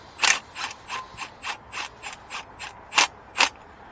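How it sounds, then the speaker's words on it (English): A power gun runs spark plugs down into a Ford Fusion 1.5-litre EcoBoost engine, producing a steady series of about eleven crisp ratcheting clicks at an even pace, close and clear with no talking. "And I'm going to run them down slowly with my gun."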